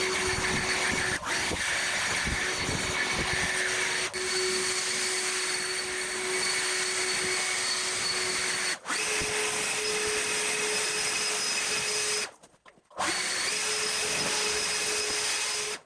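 Skag lawn mower engine running steadily and loud up close, a continuous droning hum with steady whine, briefly cutting out twice, near-silent for about half a second late on.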